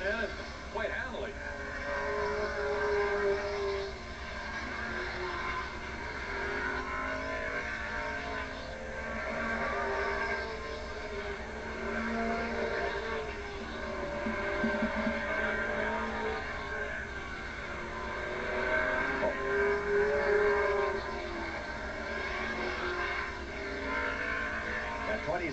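Race cars circle Bridgecity Speedway in 1986, their engines droning steadily at a distance while a commentator talks over the noise throughout.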